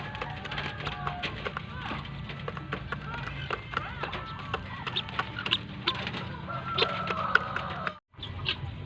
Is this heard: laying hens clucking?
yes